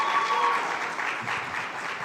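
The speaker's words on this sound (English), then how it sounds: "So we want to give her a round of applause." Short stretch of steady, moderately quiet audience applause at a health certification ceremony in the Turks and Caicos Islands, dense even clapping from a seated crowd.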